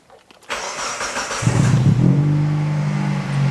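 A 1995 Mitsubishi with a charging fault being started: a brief cranking whirr, then the engine catches and settles into a loud, steady idle close by.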